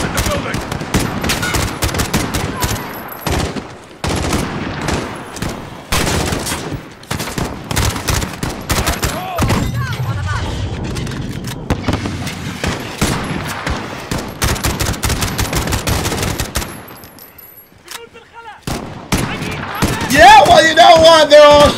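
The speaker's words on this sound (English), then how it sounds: "They're all shooting at us" Heavy enemy gunfire rattles nonstop through an embassy battle in Call of Duty Modern Warfare (2019), loud overlapping bursts and shots with brief quieter gaps, as a player talks over the shooting.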